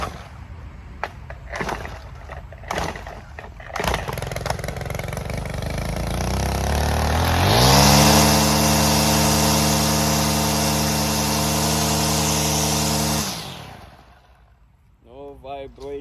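A Stihl weed eater fitted with an Echo Speed Feed head cranks up and then runs steadily at high revs for several seconds, loud and close, before cutting off; brief handling noises come before it starts.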